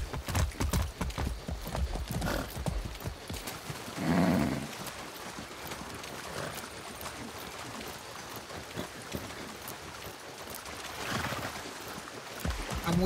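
A horse walks with steady, moderately close hoof clip-clops in a video game setting, an even plodding rhythm with a brief louder thump partway through.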